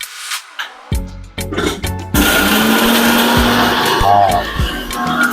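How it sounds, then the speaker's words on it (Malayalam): A kitchen mixer grinder runs loudly while coconut chicken curry masala is prepared, first in short pulsed bursts, then as a continuous whirring roar. "മിക്സി അടിക്കുന്നതുകൊണ്ട് ഭയങ്കര സൗണ്ടാണ്"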